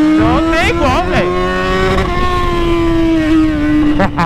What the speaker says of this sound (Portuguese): Olha o barulho dessa moto, mano.